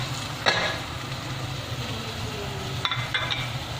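Minced meat (keema) frying with garlic-ginger paste and spices for keema aloo, a low continuous sizzle with a few sharper scraping stirs of the spoon near the start and end.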